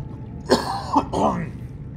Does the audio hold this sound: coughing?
yes